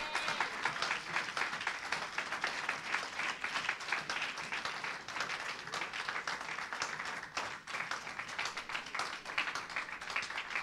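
A church congregation applauds in a steady, dense wash of many hands clapping that carries on without a break at even loudness, with no voices standing out.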